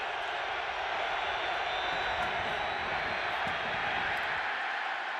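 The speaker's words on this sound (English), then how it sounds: "The crowd comes alive." Stadium crowd roaring at a 2009 NFL game, St. Louis Rams at the San Francisco 49ers, a dense, steady wash of cheering noise that holds loud and unbroken throughout.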